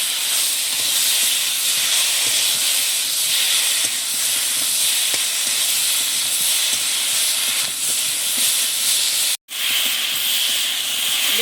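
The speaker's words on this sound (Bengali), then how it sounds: "এবারে দেখুন নেড়ে চেড়ে বেশ সুন্দর করে কষে নেব।" Spiced curry masala being stirred and fried in a pan in a home kitchen gives a loud, steady sizzling hiss that runs almost without pause, broken by one brief dropout near the end.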